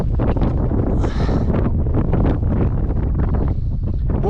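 Strong wind on an Albanian beach batters the microphone in loud, continuous gusts and rumbles, with rustling flutters throughout and nothing else standing out.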